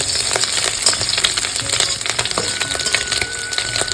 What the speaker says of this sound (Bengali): এবার আমি মাছগুলো দিয়ে হালকা করে ভেজে তুলে নেব